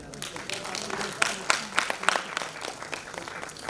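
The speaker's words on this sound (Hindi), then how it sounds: "जोरदार तालियां" Audience applause at a book launch ceremony, steady clapping from a gathered crowd with a few sharper peaks, moderately loud and mixed with faint voices.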